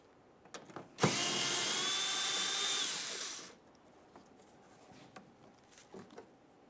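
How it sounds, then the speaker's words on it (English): Power tool removing a 7mm mounting bolt from a Buick Enclave rear bumper cover: a single close, loud whirring burst of about two and a half seconds with a slight pitch drop, set between quiet clicks and handling noises. "Remove that mounting bolt."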